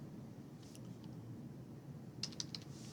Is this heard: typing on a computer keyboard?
yes